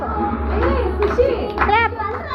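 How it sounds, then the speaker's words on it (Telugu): Children at a birthday party clapping in quick bursts while a voice chatters over the claps, close and lively. "Clap, clap everyone, clap, clap."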